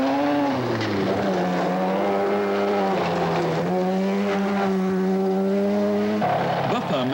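A 1984 rally car engine roars past at speed on a Northwest rally stage, its pitch sweeping and shifting as it revs hard, loud and close throughout.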